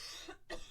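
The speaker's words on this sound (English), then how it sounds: "Okay, I have to cough again." A single short cough, close and fairly soft, with a brief pause in the middle.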